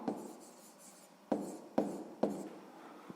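Pen writing on paper for a sixth-grade maths exercise: soft continuous scratching strokes, broken by a few sharper taps and quick marks, close and quiet with no talking.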